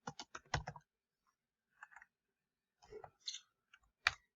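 Computer keyboard being typed on in short bursts of quick clicks, a rapid cluster at the start, then scattered keystrokes and a sharp final tap, close and fairly quiet in an otherwise silent room.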